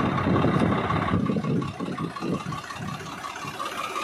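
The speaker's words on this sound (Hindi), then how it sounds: "हम आपको आगे का वीडियो दिखाते हैं इनका ट्रैक्टर चलाते हुए" Tractor engine running nearby, a steady low throbbing chug with a brief surge at the start before settling into an even idle-like pulse, no speech.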